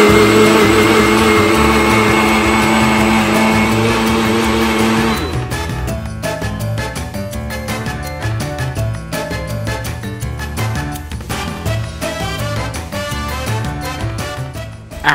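A blender motor whirs loudly while mixing a banana, ice cream and hazelnut spread shake, a dense, high, steady whine for about five seconds before it cuts off into a run of rhythmic, choppy sounds.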